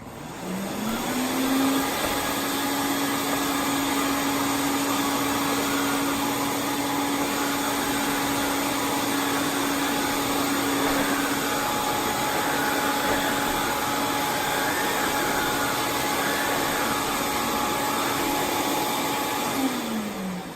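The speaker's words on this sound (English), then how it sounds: "It vacuums well. So we're going to turn it on and let you see." A Quantum vacuum cleaner whirs up to speed and runs at a loud, steady whine for about twenty seconds before spinning down, close by with no voices.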